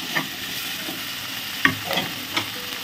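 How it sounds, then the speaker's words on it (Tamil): Onion, tomato and raw banana sautéing in a pan for a South Indian poriyal: an even close sizzle broken by several sharp spatula scrapes and stirring clatters, with no voices. "தக்காளி சேர்த்து வதக்கினதும் நம்ம இந்த வாழைக்காயை சேர்த்து வதக்கிக்கலாம்"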